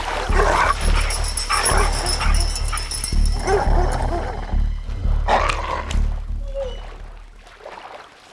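Dogs bark and yelp in bursts, some whimpering, fairly close and loud over a low rumble; the barking thins out toward the end.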